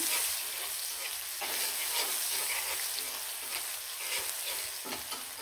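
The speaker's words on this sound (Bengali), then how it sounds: "আর এখানে গরম তেলে দিয়ে দিলাম পেঁয়াজ কুচি কুচি" Finely chopped onions frying in hot oil after fish was removed from the pan, giving a dense, steady hiss and sizzle with faint stirring scrapes, close and fairly quiet, no talk.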